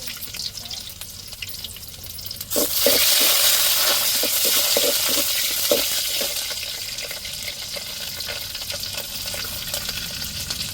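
Mustard seeds and urad dal drop into hot oil in a home kitchen pan. After a quiet start, a loud sudden sizzle bursts in with scattered crackling pops, then settles into a steady hiss.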